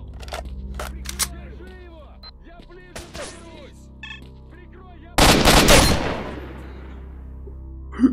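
Gunfire in S.T.A.L.K.E.R.: Shadow of Chernobyl: a burst of loud, sharp shots about two-thirds through, followed by a decaying rumble, with scattered game sounds and clicks around it.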